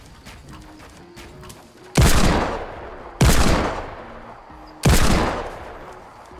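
Three loud, sharp gunshots spaced a second or two apart, each with a long decaying echo, over a quiet background hum, in the video game Fortnite Battle Royale.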